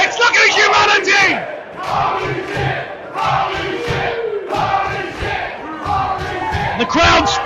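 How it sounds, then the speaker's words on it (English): A packed crowd at a no-rope deathmatch wrestling event roars and cheers loudly and continuously, with surging shouts and yells filling the room close up. "The crowd speaks for everybody."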